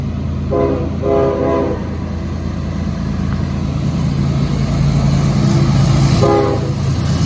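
A short freight train on the Pittsburgh line, hauled by ES40DC and SD70ACe diesel locomotives, rumbles past close by with a steady roar, its horn sounding in a few brief blasts near the start and again toward the end.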